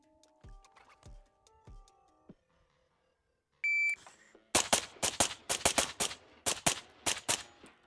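Suppressed rifles, an AR-15, an AK-47 and a bullpup, fire during reload drills: several short beeps, then a rapid string of about a dozen loud, sharp, muffled shots in uneven bursts, close by with no talking.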